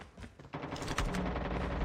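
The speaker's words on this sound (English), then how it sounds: "Sometimes this shotgun feels like it's shooting marshmallows or something." Shotgun blasts in a first-person shooter game, a loud burst of gunfire crashing in halfway through and continuing as dense, overlapping shots with a heavy low thump.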